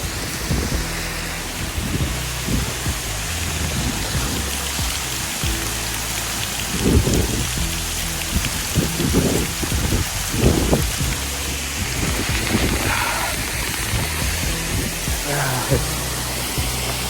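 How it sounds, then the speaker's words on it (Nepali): Narchyang waterfall in Myagdi, Nepal, rushing with a loud, constant broadband roar that runs through the whole stretch, with people talking over it at times. "राम्रो रहेछ यो नार्च्याङ झरना"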